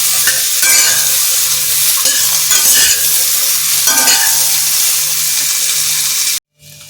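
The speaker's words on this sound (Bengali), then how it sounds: "এখন আমি এইগুলো ভালো করে একটু ভাজতে থাকবো।" Ridge gourd and potato pieces sizzle steadily in a hot pan, with scraping stir strokes coming at intervals, close and loud, before the sound cuts off abruptly at the end.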